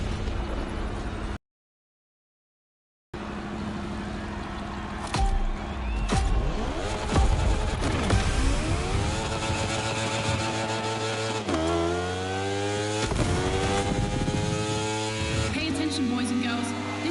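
Motorcycle and car engines from The Crew Motofest roar and rev, rising and falling in pitch through repeated gear changes, loud and close, with a brief silent gap near the start and talking mixed in.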